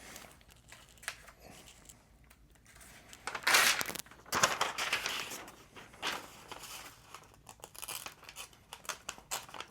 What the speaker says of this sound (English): it just wants to tear paper.